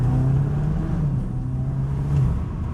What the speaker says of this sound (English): Nice bit of induction sound.